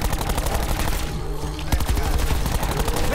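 Rapid gunfire and bursts of machine-gun fire blaze from Call of Duty Black Ops 4 Zombies on the Blood of the Dead map, loud and nearly continuous, with a short lull midway before the shooting surges again.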